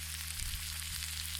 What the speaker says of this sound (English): this is just a sizzle, which is from whatever I was cooking. I think it was chicken.